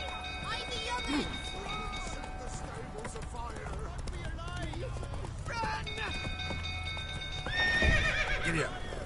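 Horse in The Witcher video game neighing and whinnying with clip-clop hooves at a run, steady throughout with a louder whinny near the end, under game music and a voice.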